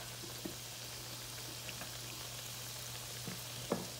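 Mackerel croquettes frying in a pan on low heat, a steady dense sizzle with a few soft pops and light clicks, no voices.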